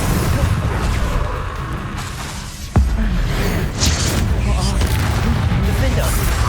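A Confringo spell explosion in the Hogwarts Legacy PC game bursts with a sharp impact crack amid low rumbling battle noise, while voices are heard during the fight.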